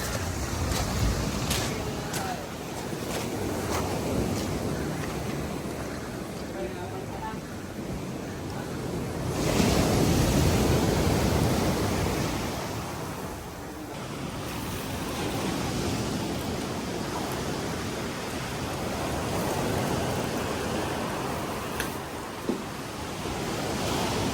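Rough sea waves wash and surge near a cave at dusk, a steady roaring wash with wind buffeting the microphone and a louder swell midway, continuous throughout.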